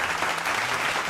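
Canned applause played from a media button fills the moment with a steady, dense wash of clapping at moderate volume, with no gaps or voices over it.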